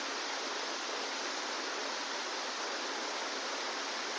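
Water pouring continuously from a gomukh spout at Shri Kshetra Lingdari temple, a steady, even hiss of flowing water with no pauses and no voices.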